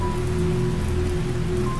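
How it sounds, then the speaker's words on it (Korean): Rain falls steadily and closely on a hard surface, a dense, even patter that fills the short stretch without pause or voices. "마른 하늘에 비가 내리기 시작하였다"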